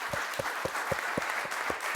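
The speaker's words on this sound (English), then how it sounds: "Applause." A small audience claps after a panel discussion at a conference, in brief, fairly quiet, loosely spaced applause.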